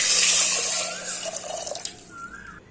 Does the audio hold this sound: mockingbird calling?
no